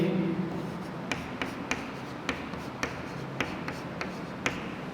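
Numbers being written on a board during a math lesson, a series of sharp, regular taps and strokes, close and distinct, with a faint voice at the very start.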